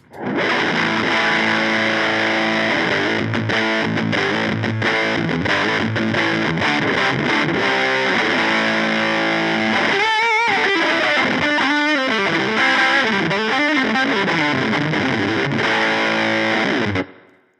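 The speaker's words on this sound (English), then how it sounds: "Let's add the fuzz and see what happens." Electric guitar with a fuzz pedal stacked into an overdrive, thick saturated buzzing tone playing chugging chords then a wobbly lead line, loud and continuous with no voices.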